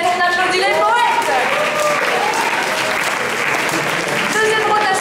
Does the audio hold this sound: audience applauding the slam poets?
yes